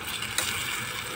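Steady sizzle of adobong sitaw (string beans) frying in a pan as vinegar is poured in, a continuous hiss with a couple of faint clinks of a utensil against the pan.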